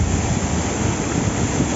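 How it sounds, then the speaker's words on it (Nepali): Large waterfall in Nuwakot's Shivapuri area near Kathmandu, a steady loud broadband roar of falling water with wind buffeting the microphone and no voices. "यहाँ अति बवाल झरना छ"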